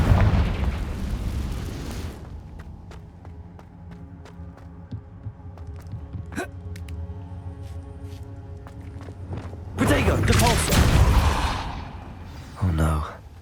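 Confringo fire spell blasts in the video game Hogwarts Legacy, a burst of loud whooshing explosions at the start and another roaring blast near the end, separated by quieter game music and footsteps.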